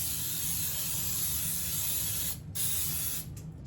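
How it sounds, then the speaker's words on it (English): A can of cooking spray hisses steadily onto a baking pan for banana bread, a close continuous spray with two brief breaks near the end. "Spray your pan good."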